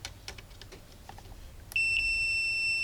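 Multimeter continuity test: after a stretch of faint clicks and handling noise, a steady high-pitched beep starts abruptly and holds loud and unbroken to the end.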